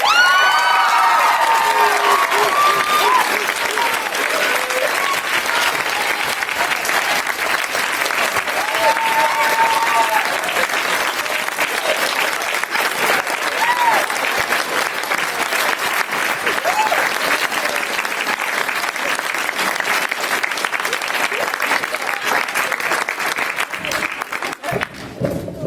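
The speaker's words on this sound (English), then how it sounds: "would like to really have a big round of applause" A theatre audience at a children's play gives the two directors a long, sustained round of applause, the dense clapping holding steady and loud, with scattered cheers and shouts mixed in before it thins out near the end.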